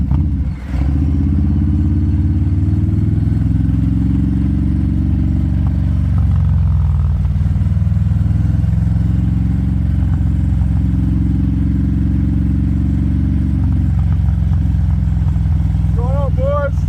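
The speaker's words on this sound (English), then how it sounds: "just a nice little burble. It's a fun little area to ride." A Harley-Davidson Low Rider ST motorcycle burbling at a steady low rumble while riding, loud and close, with a brief rise and dip in engine note partway through.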